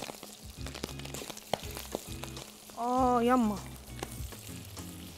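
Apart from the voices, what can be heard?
frying fasha (lung) pieces in a small pan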